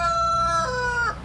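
Free-range chicken on a farm acreage in Broadview Heights, one brief close crowing call, loud and alone over a low rumbling background.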